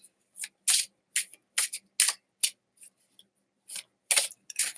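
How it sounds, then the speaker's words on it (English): Cards shuffled and tossed in quick, separate crisp bursts of riffling and flicking, with short silent gaps between them. The sound is close and fairly quiet, and nobody speaks. "Let's just throw the cards around."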